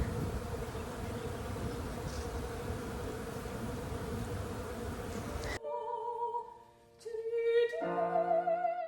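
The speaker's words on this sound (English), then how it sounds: "I hope you can hear the bees buzzing." Bees buzz steadily outdoors on a bright day, a dense continuous drone that cuts off partway and gives way to quieter, sparser insect hum with a few louder passes near the end.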